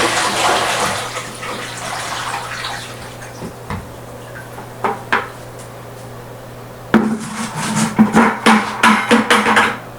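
Water pours and splashes into a turtle tank during cleaning and refilling, a loud continuous gush that eases off, followed by several sharp knocks and sloshing bursts near the end.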